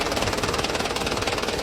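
A Mitsubishi Canter truck engine idles with no throttle, giving a steady, close, broadband mechanical clatter with a fast knocking pulse throughout the short stretch and no talk.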